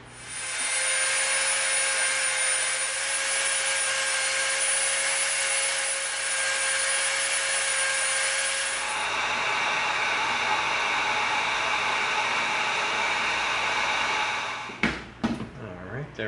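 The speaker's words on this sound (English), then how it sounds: "We're going to bevel this with the Dremel." A Dremel rotary tool bevels the edge of EVA foam with a loud, steady high-pitched whine and grinding hiss for about fifteen seconds, its pitch dropping partway through, before it winds down and stops.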